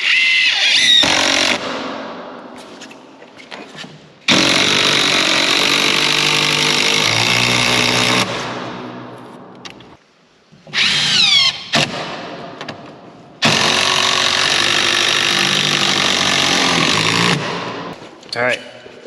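A power drill drives 6-inch screws through two stacked 2x4s into a column while the interior of a barndominium is framed. It gives long, loud whirring bursts of several seconds each, with short quieter gaps and clunks between them.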